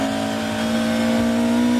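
A race car accelerating hard out of a chicane at Goodwood on a wet track, a loud sustained high-pitched engine note holding steady and close, with no voices.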